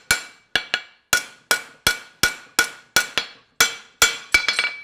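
A farrier's hammer strikes a horseshoe on the anvil while forging a reverse shoe, about a dozen sharp ringing blows in a steady rhythm, near and loud, closing with a quick cluster of lighter taps.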